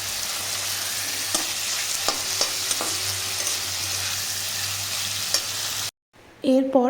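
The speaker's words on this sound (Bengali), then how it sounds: "আজকে ঠিক করে দেখাবো আমি পটল ভাজা" Pointed gourd fries and is stirred in a pan: a continuous sizzle broken by several sharp scraping clunks from the stirring. It cuts off abruptly near the end to a brief, different sound.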